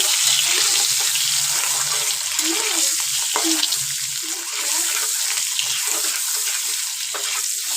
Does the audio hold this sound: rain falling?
no